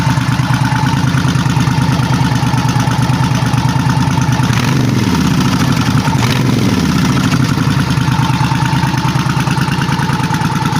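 A Suzuki Intruder motorcycle with a custom exhaust idles steadily and loudly up close, its deep, even rumble unbroken throughout with a slight rise in tone midway.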